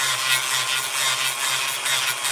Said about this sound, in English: I use a Dremel rotary tool, and I just put a sanding drum on it